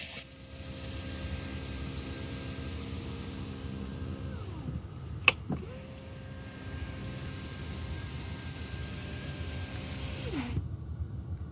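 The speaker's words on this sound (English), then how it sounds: "that is one of the most interesting sounds for a window motor I've heard" Power window motor on a 2019 BMW X5 xDrive40i, heard as a steady whirring drone with a falling and rising pitch sweep, a sharp click midway and a second sweep as the glass stops, all over constant cabin air-conditioning hiss.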